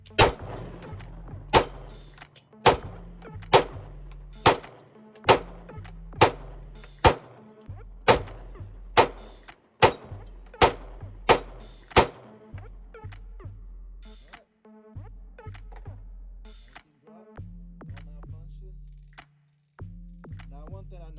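A SIG-style G19 pistol with an RMR-cut slide fires 124-grain hollow points at steel targets outdoors: about a dozen loud, sharp shots in a quick, uneven string, then fewer, more widely spaced shots.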